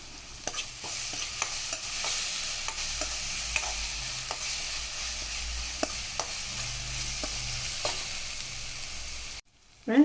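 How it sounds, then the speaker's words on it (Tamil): Onions and curry leaves sauté in a pan for paneer butter masala, a steady low sizzle with a string of sharp stirring scrapes and taps close by, fading out just before the end. "வெங்காயம் நல்லா வதங்கட்டும். இது கூட கொஞ்சமாக கருவேப்பிலை போட்டுக்கிடுவோம்."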